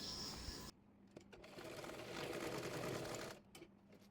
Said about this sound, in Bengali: কামিজের একটি পাটের উপর আরেকটি পাট রেখে কাঁধ সেলাই করে নেব।